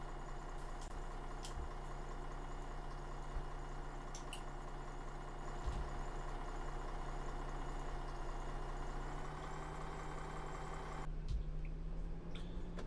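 A Volvo Olympian bus engine idles in the OMSI 2 driving simulator with a low, steady diesel drone and a faint whine above it. It runs evenly with small clicks and knocks, and a brief change near the end.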